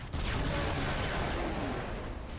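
Loud, sustained gunfire and explosive rumble from the video game X-Men Origins: Wolverine start abruptly and hold as a thick, unbroken wall of noise throughout.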